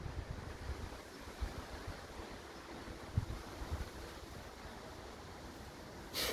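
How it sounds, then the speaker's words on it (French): Rain falls steadily during a moderate September storm, a soft, even wash of noise with faint rumbles and wind, quiet and continuous with no talking. "C'est la pluie que j'entends en fait."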